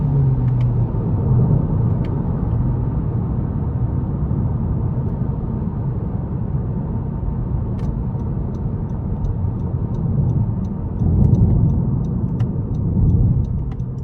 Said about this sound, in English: I actually like the sound of the car itself. It's not too whiny or anything like that.